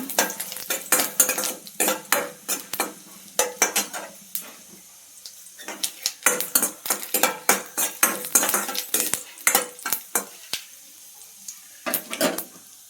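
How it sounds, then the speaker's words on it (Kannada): Repeated sharp scrapes and clinks of a utensil stirring garlic and dried chillies in a pan over a light sizzle of frying, in a quick uneven rhythm. "ಬೆಳ್ಳುಳ್ಳಿ ಸ್ವಲ್ಪ ಒಣಮೆಣಸಿನ್ಕಾಯಿ, ಇದು ಸ್ವಲ್ಪ ಫ್ರೈ ಮಾಡ್ಕೋಬೇಕು."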